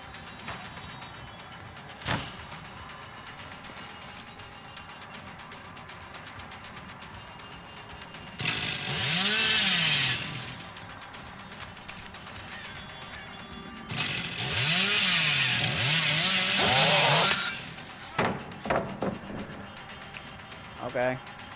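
A chainsaw revs in the video game Dead by Daylight on an indoor map, with two loud sustained bursts rising and falling in pitch between quieter stretches of game ambience.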